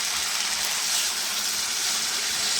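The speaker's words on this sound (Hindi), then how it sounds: "अब मैं इसमें 1/2 कप पानी ऐड कर रही हूँ।" Half a cup of water is poured into a pan of mixed vegetables, a steady hissing gush that holds evenly for a couple of seconds, no voices.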